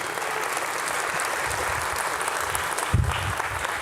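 Audience at a Laravel developer conference in Denver clapping after a talk, dense sustained applause from a large room filling the whole stretch.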